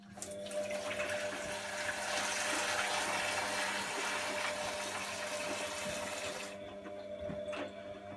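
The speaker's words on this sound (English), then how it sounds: "I'm just going to pour some water in to rinse that detergent down." Steady rushing of water poured into a Bosch WFF2000 washing machine to rinse detergent down, a continuous broadband wash with a low hum beneath, ending abruptly near the end.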